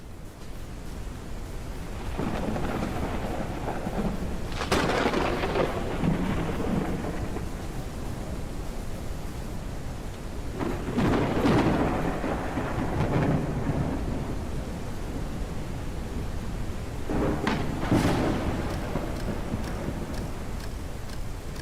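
Steady rain pours through a thunderstorm in the Forever Skies video game, broken by three rumbling rolls of thunder spaced several seconds apart, with no talk.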